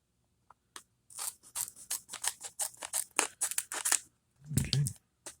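Scissors snip open a resealable trading card pack with a rapid series of crisp close cuts, ending in a softer crinkle of the wrapper.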